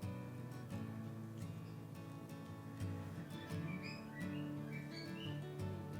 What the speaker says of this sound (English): You're gonna hear my birds in the background,